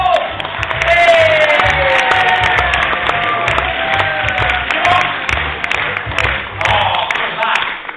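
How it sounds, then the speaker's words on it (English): A pantomime audience applauds in a theatre, a sustained burst of clapping that runs under a performer's voice and fades slowly. "Give them a nice round of applause."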